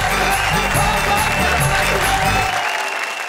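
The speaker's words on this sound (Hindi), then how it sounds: "जरा जोरदार तालियां बजाएं।" Enthusiastic audience applause at a Hindi comedic poetry gathering (kavi sammelan), dense continuous clapping with some cheering and a low rumble underneath, loud and close throughout.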